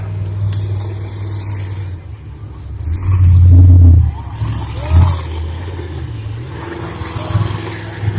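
Monster trucks rev their engines at a figure 8 racing event, loud throaty roars that surge and drop in bursts, close and dominant over crowd and arena noise.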